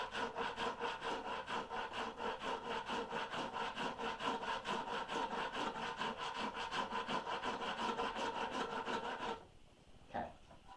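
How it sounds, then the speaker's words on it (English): A rasp shapes a wooden boat half hull model in quick, even back-and-forth strokes, loud and close, a rhythmic rough scraping that runs steadily before stopping near the end, followed by a single brief scrape. "The rasp is digging in a little bit more"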